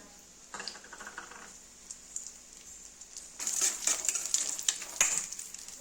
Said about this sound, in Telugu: జీడిపప్పు బాదం పప్పు వేయించుకోవాలి